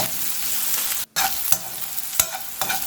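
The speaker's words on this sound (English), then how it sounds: "Just sauteing it in the coconut oil." Ivy gourd sautés in coconut oil in a pan, giving a steady bright sizzle with a few scraping stirs, close-up and alone.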